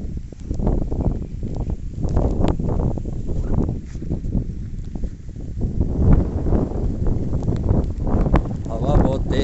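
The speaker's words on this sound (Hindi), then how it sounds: "हवा बहुत तेज है," Strong wind with heavy monsoon rain over farm fields; a loud, constant roaring buffet of gusts hitting the microphone, while someone speaks over it.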